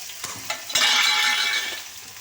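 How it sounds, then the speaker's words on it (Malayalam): Okra tipped into hot coconut oil in a pan: a few light clinks, then a sudden loud, close sizzle that keeps hissing and eases slightly toward the end. "ചൂടായ എണ്ണയിലേക്ക് ഈ വെണ്ടയ്ക്ക ഇട്ട്"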